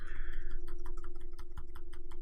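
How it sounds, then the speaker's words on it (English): Quick, irregular clicks of computer keys being typed, fairly close, over a steady low electrical hum. "Can you hear me typing?"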